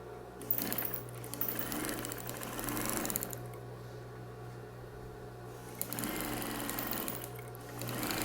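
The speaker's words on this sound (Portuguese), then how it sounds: "Você coloca, olha, junto um com o outro. Vem e costura." A sewing machine stitches a bathroom mat set from thick batting fabric, running steadily in long continuous bursts with a brief pause midway, close and fairly loud with no talking.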